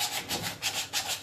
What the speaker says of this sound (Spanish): aprovecho y termino de lijar el proyecto del día de hoy